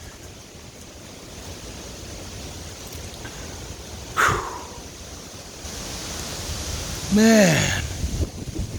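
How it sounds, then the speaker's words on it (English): Strong hurricane wind from Hurricane Helene roars steadily through trees in Marion, western North Carolina, swelling into a louder gust toward the end, with someone briefly speaking over it. "That's a big wind coming in."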